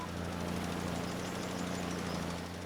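Tractor engine in Farming Simulator 25 while planting wheat on a new field, a steady low droning hum with faint rhythmic knock, quiet and unchanging throughout.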